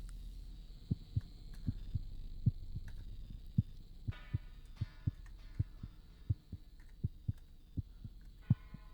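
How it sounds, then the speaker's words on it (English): A slow, regular heartbeat thumps about twice a second over a low hum in the horror video game The Cat Lady, with faint eerie tones and no talking. "I don't like the heartbeat sounds"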